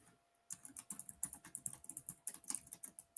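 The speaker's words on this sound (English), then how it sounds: "so you hear how hard Sleuthie's hitting those keys" Hard, fast typing on a computer keyboard, a dense run of sharp, close keystrokes after a brief silence, continuing steadily with no talking.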